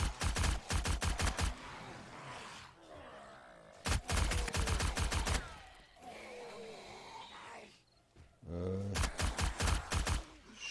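Rapid automatic gunfire from the survival game 7 Days to Die during a blood moon night: three long, loud bursts of fast shots separated by quieter in-game ambience.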